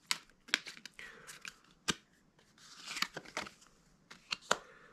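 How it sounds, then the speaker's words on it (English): Oversized oracle cards being shuffled by hand, a run of crisp papery riffles and sharp slaps in irregular bursts, close and fairly quiet with short gaps between them. "I hate shuffling Oracle cards."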